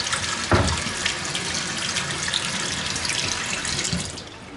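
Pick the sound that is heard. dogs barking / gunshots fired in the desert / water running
water running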